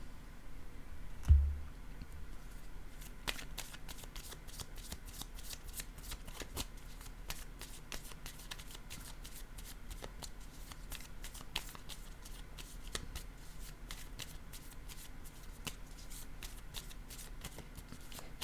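Tarot cards shuffled by hand, with a brief thump near the start followed by a steady, quiet riffle and flutter of cards that runs on for the whole stretch with many small clicks.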